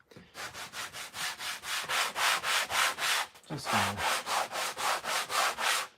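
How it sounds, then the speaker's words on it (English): Steady back-and-forth rasping of a 120-grit foam sanding block sanding hot glue off a table, about a dozen even strokes with a short pause midway where a voice briefly speaks. "I'm even going to sand some of this hot glue off. This is a foam sanding block."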